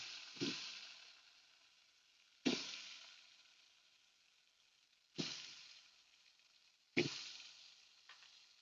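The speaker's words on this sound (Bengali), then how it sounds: "এবারে আমি এই তেলের মধ্যে যে কেটে রাখা আলুগুলো ছিল সেগুলোকেও দিয়ে দেবো" Cut potatoes hitting hot oil in a pan for a potato, pointed gourd and prawn dish: four sharp, close sizzling bursts a couple of seconds apart, each flaring loudly and then fading to a soft steady hiss, with a smaller fifth burst at the end.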